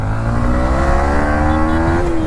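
A Yamaha MT15 V3 motorcycle accelerates with a loud, steady engine drone whose pitch climbs smoothly as it pulls hard, then drops briefly at a gear change near the end, heard from close on the bike without talk.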